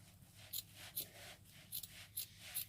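Scissors snipping strips of material for a rustic Valentine heart wreath, five or six short, crisp cuts spaced irregularly at close range, over a low steady hum.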